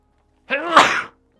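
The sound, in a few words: sneeze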